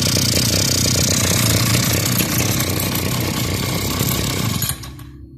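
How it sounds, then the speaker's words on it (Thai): A small two-stroke brush cutter engine idles loudly nearby with a buzzing, rattling tone, then abruptly cuts off, leaving near silence. "เครื่องยนต์เดินอยู่ในรอบเดินเบานะครับ"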